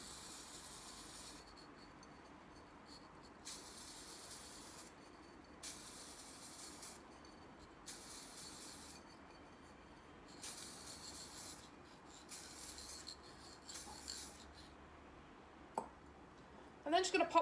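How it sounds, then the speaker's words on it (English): Spray paint hisses from a can onto a terracotta pot in repeated bursts of one to two seconds separated by short pauses, close and fairly steady, with a few faint handling knocks near the end. "And then I'm just going to go around and spray a coat on it."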